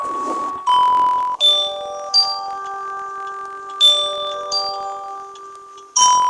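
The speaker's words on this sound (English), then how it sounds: "firstly, you need to ring the bells. Then play the melody that lily flowers love." Bells in The Snow Queen game ring out a melody of clear, sustained chime tones, struck one after another with long ringing decays, loud and alone.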